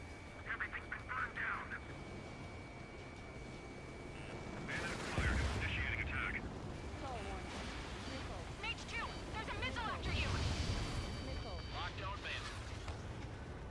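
Missiles and gunfire in Ace Combat 7 aerial combat, a rumbling jet drone with bursts of rapid fire and whooshing launches, under a voice talking over it.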